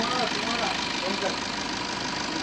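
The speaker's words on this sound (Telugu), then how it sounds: "ఒకసారి మీకు వెహికల్ ఇంజన్ కండిషన్ చూపిస్తారు" A 2016 Maruti Suzuki Ritz LDI diesel engine idles steadily with a continuous, even drone, loud and close under a faint voice.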